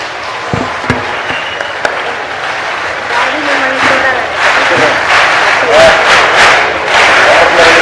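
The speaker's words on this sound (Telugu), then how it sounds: "మనందరం గట్టిగా చప్పట్లు కొట్టాలని ఈ సభాముఖం మిమ్మల్ని అందరినీ కోరుతున్నాం" An audience at a ceremony claps loudly, the applause swelling into dense sustained clapping mixed with crowd noise and some voices.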